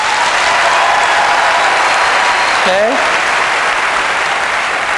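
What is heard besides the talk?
audience applause at keynote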